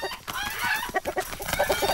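Chickens clucking in the horror game Lakeview Cabin, a dense, busy flock squawking and cackling nonstop, close and fairly loud, with a few sharper crowing-like bursts and no talking over it.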